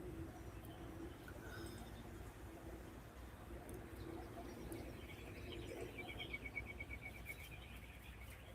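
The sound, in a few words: birdsong in the background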